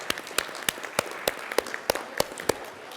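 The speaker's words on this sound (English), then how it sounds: "Let's give them a round of applause." Small audience at a conference breakfast clapping, a sparse set of distinct hand claps with uneven rhythm, fairly close and moderate in volume, with no talk over it.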